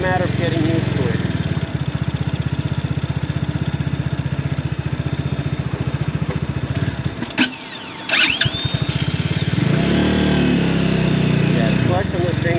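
An X-Pro X24 250cc street-legal motorcycle engine putters in a loud, rapid idle close by, dips briefly, then catches again and keeps running, with a person talking over it.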